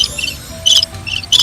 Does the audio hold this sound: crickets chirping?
yes